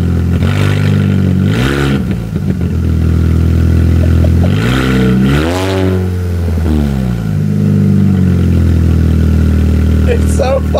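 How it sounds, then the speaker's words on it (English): A Mini Cooper engine is blipped and revved hard, its loud, close note sweeping up and down in pitch several times, with a few sharp pops near the end. "Give her a blip."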